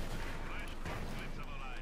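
Company of Heroes 2 battle in which a tank shell scores a direct hit and wipes out an infantry squad: dense, loud, continuous gunfire and blasts fill the whole stretch, with a commentator talking over the action.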